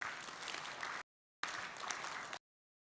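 Brief applause for the presenters at a South China Sea sub-forum session, heard as two short, quiet, even bursts of clapping separated by a gap.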